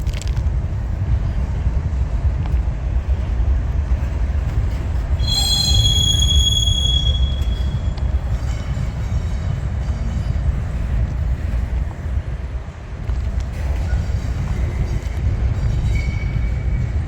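A freight train passes slowly at Effingham with a steady low rumble throughout, brief high squealing from the wheels early on, and wind buffeting the microphone.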